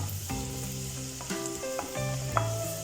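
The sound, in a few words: chopped ginger frying in pan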